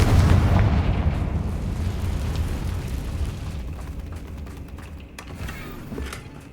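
A Confringo fire spell blasts in a Hogwarts Legacy game, a loud rumbling explosion up front that rolls on as a long low boom and slowly fades, with some crackling debris later.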